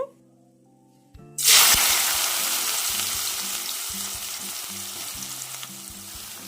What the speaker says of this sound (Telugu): వీటిని కూడా ముందు ఎలా వేయించుకున్నామో అలాగే వేయించుకుందామండి